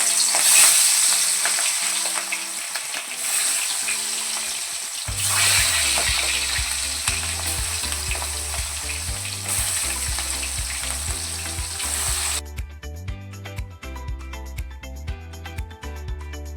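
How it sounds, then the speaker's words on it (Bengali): Rui fish frying in hot oil in a wok, a loud continuous sizzle and spatter, close by, with a steady low hum and tonal background music running underneath throughout. "মাছটা ভেজে নেব।"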